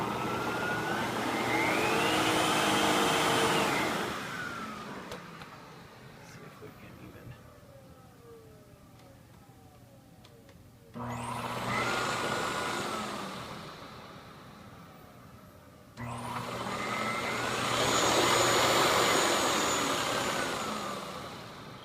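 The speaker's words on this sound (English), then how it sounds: "the power nozzle is controlled by the speed control as well, as you can hear as I turn up the" A Miele S238i Super Electronic canister vacuum runs with its power nozzle and a new brush reel, whining at shifting pitch as its speed control changes. The motor hum rises and falls through several stages, close and fairly loud.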